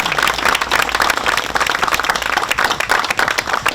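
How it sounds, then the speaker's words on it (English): An outdoor crowd at the ribbon cutting for the Mt. Tom North Trailhead Park in Easthampton claps steadily and briskly throughout, the applause dense and fairly close, with no speech over it. "I think we should have a round of applause for everybody that really helped to put this together."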